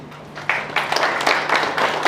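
Clapping from an audience at a Zimbabwe awards ceremony builds from near silence into a dense, lively round of applause, close and fairly loud, with no talk over it.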